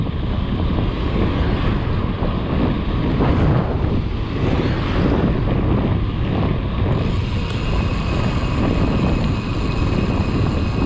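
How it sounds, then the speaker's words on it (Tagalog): Steady, heavy wind roaring across the microphone during a ride up Sumulong Highway, with a continuous broadband rush that buffets without letup throughout. "lakas ng hangin. Pinipigilan tayo."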